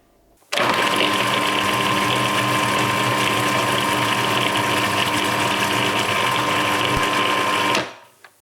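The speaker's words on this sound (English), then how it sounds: "Give it all a good whiz to blend until smooth." A countertop blender whizzes barbecue sauce ingredients until smooth, starting abruptly with a loud, steady whirring motor roar that runs for about seven seconds before cutting off.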